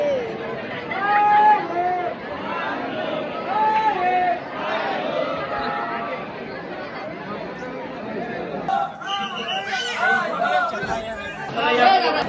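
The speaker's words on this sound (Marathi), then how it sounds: "आणि तर सध्या खूप गर्दी आहे" Crowd chatter at the Dagdusheth Ganpati temple in Pune, a steady babble of many voices with nearer individual speakers rising and falling throughout.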